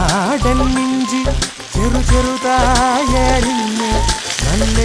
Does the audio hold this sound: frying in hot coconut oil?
yes